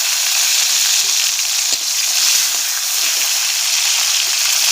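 Green chillies fry loudly in a pan of hot oil, a steady close sizzle and hiss throughout with no talking.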